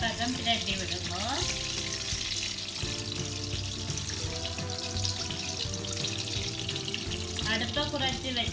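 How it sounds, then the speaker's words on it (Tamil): Sri Lankan modak dumplings fry in a pan over low heat, giving a steady, close sizzle that runs throughout with light stirring and turning noises mixed in. "மோதகத்தை மற்ற பக்கம் பிரட்டி விடுங்கோ"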